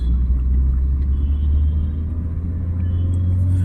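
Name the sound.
car engine while driving in third gear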